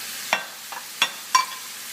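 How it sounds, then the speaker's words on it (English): Shiitake and porcini mushrooms stirred in a pan, with three or four brief scraping stir strokes over a faint steady sizzle, close and fairly quiet. "I'm going to now add our wild mushrooms here. Use some nice shiitakes and some porcini mushrooms"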